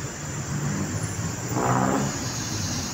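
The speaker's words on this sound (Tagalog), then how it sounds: "Yan, masyado po traffic dito talaga." Heavy road traffic near Tandang Sora gives a steady, dense roar of engines and tires, with one vehicle swelling louder as it passes midway before the noise settles back to a constant drone.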